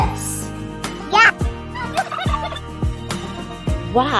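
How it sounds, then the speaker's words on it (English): Farm turkeys gobble in quick warbling bursts, a few loud close calls over a light rhythmic music bed with regular beats. "Do you know what sound the turkey makes?"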